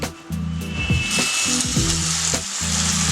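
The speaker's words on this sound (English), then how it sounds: "Take half teaspoon of red chili flakes and stir fry this." Steady sizzling and crackling from a hot pan as garlic and red chili flakes are stir-fried, with a few scraping stirs over a low droning hum throughout.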